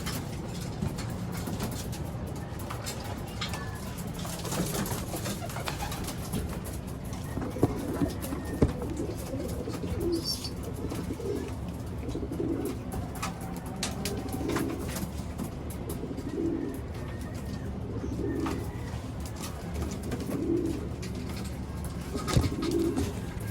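Pigeons or doves coo repeatedly, fairly close, against a steady background of outdoor noise; no talking.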